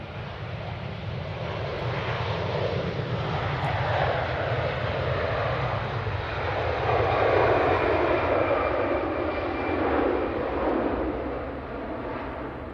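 A Finnair Embraer jet taxiing at Manchester Airport gives a steady, moderately loud turbine roar and whine that swells slightly and eases again, heard from a distance outdoors with a light breeze.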